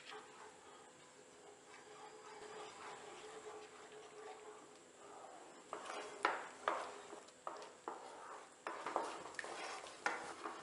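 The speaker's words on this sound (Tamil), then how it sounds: "இப்போ நம்ம ஒரு வானலியில் நல்லா கலக்கி விட்டுக்காங்க" Flour batter for kozhukattai stirred in a kadai, quiet scraping at first, then sharper clinks and knocks of the spoon against the pan coming in irregular bursts in the second half.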